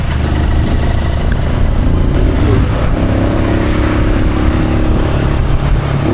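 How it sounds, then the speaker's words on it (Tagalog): Steady, loud engine rumble and clatter from a motorized tricycle ride in the Philippines, near Calamba's Turbina bus stop, droning without a break and with no talking. "Sumayan kami ng tricycle."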